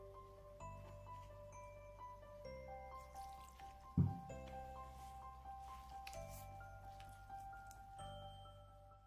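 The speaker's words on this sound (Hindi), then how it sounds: "इसमें थोड़ा और गुनगुना पानी डालेंगे, गुनगुने पानी से ही मैदा गूंथना है।" Lukewarm water drips and trickles faintly into flour being mixed into dough for homemade buns, with one brief louder squishing splash midway over a quiet background hum.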